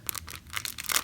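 Paper or plastic wrapping torn open on a mystery jewelry package, a few short ripping bursts in close succession, near and fairly loud with no talking.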